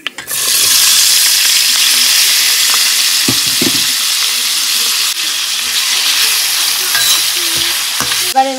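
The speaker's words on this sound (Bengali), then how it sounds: "এগুলো সব টোফু আর আলাদা করে ভাজলাম না, সব একসঙ্গেই ভাজা করে নিচ্ছি" Tofu and vegetables fry together in a pan with a loud, steady sizzle that runs throughout, broken by a few stirring scrapes and clatters near the middle and end.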